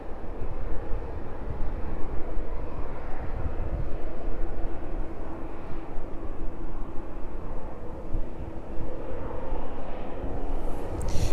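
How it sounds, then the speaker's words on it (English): A Boeing 777 taxiing toward runway 27 at East Midlands Airport produces a steady, loud, broadband engine roar that stays constant throughout, heard at a distance with no talking. "The 777 continuing to make its way down to the start of runway 27"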